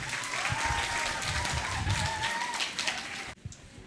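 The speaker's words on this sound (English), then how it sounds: "Let's give them a big round of applause." A crowd at a school literary and cultural gala claps for contestants in steady, full applause with a faint tonal whine running through it, ending abruptly.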